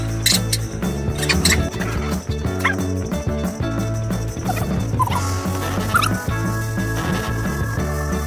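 Several huskies bark, yip and whimper in close, loud bursts while playing on a couch with a thick fabric cover, overlapping excitedly throughout.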